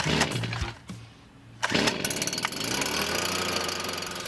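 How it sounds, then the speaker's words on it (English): A petrol leaf blower is pull-started: a couple of sharp tugs, a brief pause, then the small engine catches and settles into a loud, steady buzzing drone close by. "If it's safe to do so, you can now grab a firm hold of the leaf blower and give a tug on the startup."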